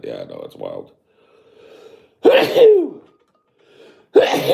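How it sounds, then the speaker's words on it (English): Two sharp, loud sneezes burst out a couple of seconds apart, after a short phrase of speech and a quiet breath. "That was a sneeze."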